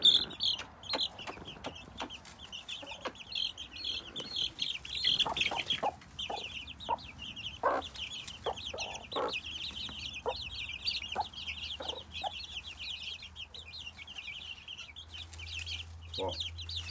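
Young chicks peep in a steady high chorus with scattered soft clucks, close by and continuous, as they roam free under watch outdoors.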